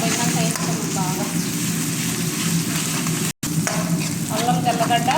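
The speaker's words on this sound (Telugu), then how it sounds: "అల్లం తెల్లగడ్డ పేస్ట్ కూడా బాగా వేగిపోయింది" Ginger garlic paste fries in a pan with a steady close sizzle and bubbling hiss, interrupted by a brief dropout.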